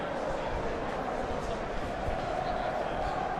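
A stadium crowd in the eFootball video game, a broad continuous roar of massed voices at a steady level, with no distinct individual sounds standing out.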